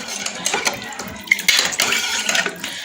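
A spoon stirs garlic-ginger paste into mutton paya in a metal pot, giving close clinks and wet scraping scrapes in quick repeated strokes.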